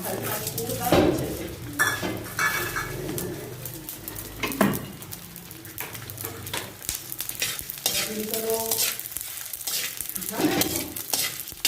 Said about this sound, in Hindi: थोड़े थोड़े ऑयल में फ्राई कर रहे हैं, 2-3 मिनट के लिए फ्राई कर रहे हैं बस